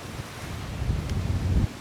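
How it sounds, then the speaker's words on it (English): Ocean waves splash up over rocks on a beach at Cayo Santa Maria, close and rumbling, mixed with heavy wind buffeting the microphone, with a surge building near the end. "actually it's the waves splashing up over."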